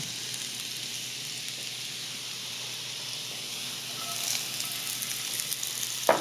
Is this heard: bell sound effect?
no